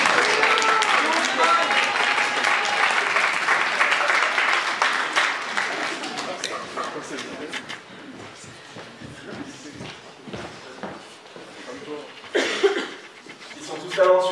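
An audience at an eloquence contest final applauds the finalists gathered on stage, dense clapping for several seconds that thins out into scattered claps with voices talking nearby.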